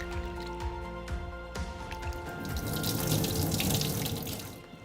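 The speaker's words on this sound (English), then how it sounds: "I'm going to rinse it real good and take all the starchy, little bit powdery part out so it becomes clean." Tap water runs into a sink while sabudana (tapioca pearls) is rinsed, a splashing, gurgling stream with a few sharp knocks early on, then a fuller, louder rush of water toward the end, heard up close without talking.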